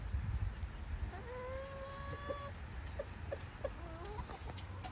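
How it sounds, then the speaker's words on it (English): Hens clucking nearby outdoors, a few drawn-out rising calls followed by short scattered clucks over steady low background noise. "Wonder how these hens would react."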